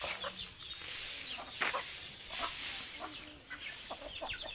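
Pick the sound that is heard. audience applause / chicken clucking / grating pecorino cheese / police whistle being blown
chicken clucking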